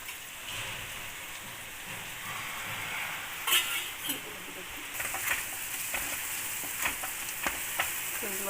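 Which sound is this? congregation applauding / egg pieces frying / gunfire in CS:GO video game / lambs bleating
egg pieces frying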